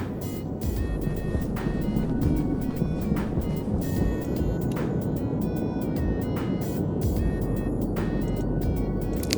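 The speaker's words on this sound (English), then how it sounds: "And there's the storm." A storm on Europa in the Stationeers video game roars as a dense, continuous rumbling wash with repeated sharp crackling bursts punched through it, loud and unbroken with no speech.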